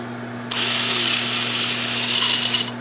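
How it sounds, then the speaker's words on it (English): A small rotary sanding tool (Sandoflex) whirs steadily against a cherry burl bowl for about two seconds, starting abruptly and stopping, close and fairly loud over a low electrical hum. "I may sand this whole thing with the Sandoflex"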